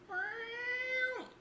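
A sustained electric guitar note in a track swells with rising volume and bends down at the end, sounding like a crying cat, alone and moderately loud.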